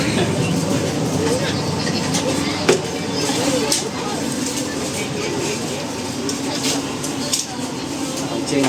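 Economy carriage of the KA Majapahit New Generation train, rear car, full of passengers: a steady rumbling ride noise with occasional clicks and knocks, and people talking faintly in the background.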